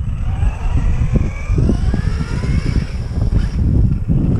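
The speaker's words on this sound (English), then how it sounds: "We can do a little drifting" A car drifts with its engine roaring continuously and close, the rough motor note wavering and surging as it slides, with no voices over it.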